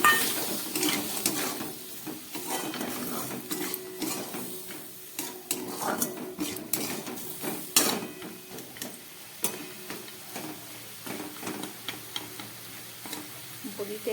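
Lentil dumplings (bori) stirred in a pan with a little added water for a sweet chickpea-greens dish, a soft sizzle under frequent utensil scrapes and clinks against the pan.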